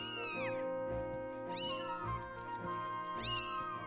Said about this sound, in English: Now for Instructor Horwell, who's actually in his room and takes care of the headmaster's cat.